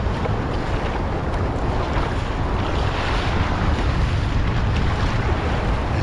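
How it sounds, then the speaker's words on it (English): Ocean waves roll and wash in a steady, full roar, mixed with wind buffeting the microphone, with no talking throughout. "These beautiful waves."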